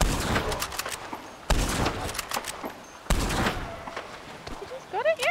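Rapid bursts of gunfire from a shootout with a cougar in Red Dead Redemption, coming in three loud volleys of cracking shots with short gaps between them, while voices talk over the shooting.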